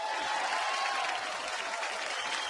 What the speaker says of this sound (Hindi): एक बार अनिल कपूर साहब के लिए जोरदार तालियां।